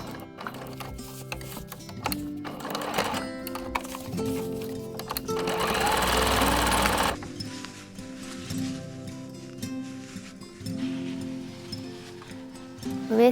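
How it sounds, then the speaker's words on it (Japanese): A sewing machine runs in a short steady burst while stitching a square around the elastic opening of a waistband, with softer rustling and handling noises around it. "ゴム通し口をぐるりと四角く縫う。"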